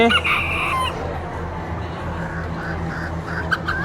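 A Sebright chicken crowing at a poultry expo, one clear, fairly loud crow at the start, then a busy hall murmur with faint clucks and bird calls.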